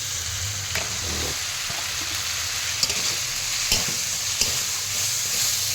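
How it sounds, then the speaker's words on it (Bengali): Ginger sizzles steadily in a hot pan, a close, even crackle with occasional light clicks of a spoon against the pan. "আদাটা খুব ভালো একটু ভাজা হয়ে গেলে আবার একটু জল দিয়ে ফ্রাই করবো।"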